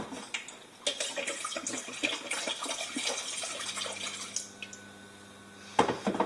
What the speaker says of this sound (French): Je vais mettre de l'eau à chauffer derrière.